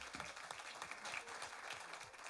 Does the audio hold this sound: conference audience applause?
yes